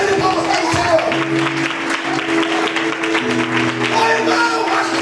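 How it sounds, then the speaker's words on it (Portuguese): A church congregation claps steadily in sustained applause throughout, with voices and a held musical tone mixed underneath. "Uma salva de palmas para o Senhor."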